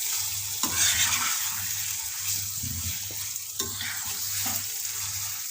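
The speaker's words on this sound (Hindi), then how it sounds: "और इसे भी हम भून लेंगे थोड़ी देर के लिए।" Aloe vera sabzi with amchur powder fries and is stirred in a pan, a close hissing sizzle with rhythmic scraping strokes of the spatula, no voices.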